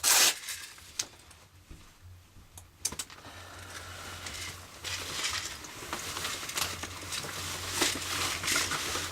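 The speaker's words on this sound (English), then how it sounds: "If I can ever get this vest off." An airsoft vest comes off with a sharp rip of fasteners at the start, then scattered clicks, scrapes and rustling handling noises that grow busier toward the end.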